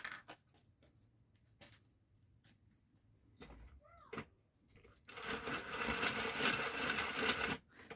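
A 22-pin circular knitting machine running, giving a loud, steady mechanical whirring and clattering for the last few seconds after some quiet handling clicks and knocks.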